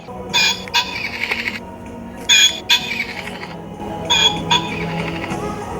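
Short bursts of shrill electronic bird chirps from a toy, coming in three separate clusters with quieter gaps between them.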